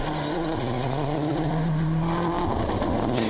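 A Peugeot rally car races along a dry gravel stage with a steady, buzzing engine drone, holding its pitch and then shifting slightly as it runs on. No one speaks.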